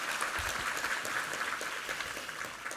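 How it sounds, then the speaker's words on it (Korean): Church congregation applauding during a Sunday evangelistic worship service, a steady wash of many hands clapping at moderate volume throughout, with no speech over it. "우리 하나님께 감사와 영광의 박수 올려드리겠습니다"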